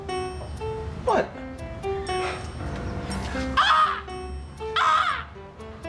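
Crow-like birds give harsh, loud cawing calls, two standing out clearly near the end, layered over a steady musical backing and people talking.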